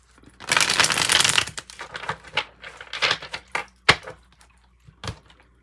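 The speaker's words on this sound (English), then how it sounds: "Do a quick shuffle real quick." A burst of oracle cards being riffled and shuffled, followed by softer scattered taps and slides of cards being handled, close by.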